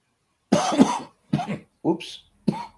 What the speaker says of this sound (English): There's that cough again from the other roach.